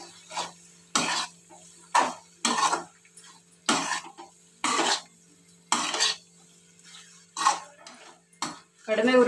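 Veg pasta is stirred in a pan with coriander leaves, giving a series of sharp scraping and clinking utensil strokes against the pan in an irregular rhythm, close and fairly loud, with a faint background hum.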